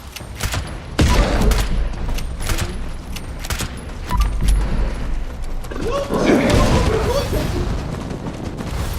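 Gunfire aimed at a creature in the video game Fallout 76, with bursts of shots and heavy booming impacts repeating through the clip over a dense game soundscape.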